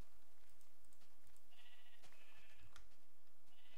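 Sheep bleat in the Minecraft video game, several short nasal bleats over a faint steady background, moderately quiet.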